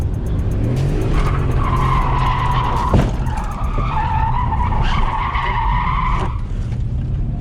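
A BMW E34 530i drift car slides with loud, sustained tire squeal that wavers and rises in long screeching bursts over a constant engine roar, recorded up close with no talking.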